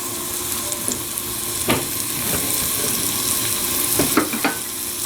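Sausage and onions fry in a hot pan, a loud steady sizzle up close broken by a few sharp scrapes and knocks from stirring, with no voices.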